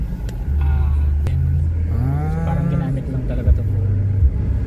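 A 2009 Honda City 1.5 rolls over an uneven road, with a steady low engine and road rumble filling the cabin throughout, some faint tonal whines, and a couple of small thumps near the end.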